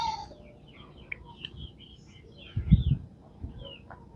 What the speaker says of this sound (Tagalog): so yung manok natin umiinom